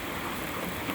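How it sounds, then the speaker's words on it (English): Rain falling steadily in the hills at a state park campsite, heard as a dense, even hiss that fills the whole brief moment without pause and without any voices. "Now that rain is just coming down out of these hills."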